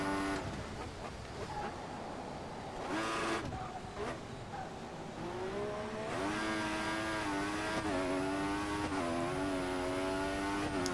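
An F1 2014 race car's engine revs and climbs through the gears, a high rising whine that drops with each upshift and pulls hard in the latter half, close and loud.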